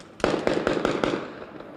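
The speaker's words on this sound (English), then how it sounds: "you're hearing active gunfire there." A quick string of five or six sharp gunshots in steady succession, loud and echoing, followed by a fading reverberant tail, from a second floor during a 2013 police standoff in Latrobe.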